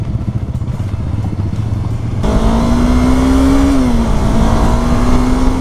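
Motorcycle accelerating along a quiet rural road in Indonesia, engine note rising sharply into a loud steady drone that climbs in pitch then drops slightly as it shifts, with heavy wind rush throughout.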